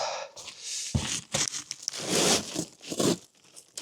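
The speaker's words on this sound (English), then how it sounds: "It ripped twice." Roofing material tearing on a cabin roof in winter after snagging on a nail, a series of loud, close ripping and crinkling bursts, several sharp tears close together with rustling between them.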